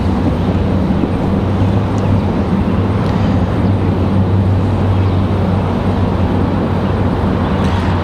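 A Southwest Boeing 737 Max 8 arriving at Raleigh-Durham gives a constant low rumbling drone with a strong steady hum, loud and unbroken, with no talk over it.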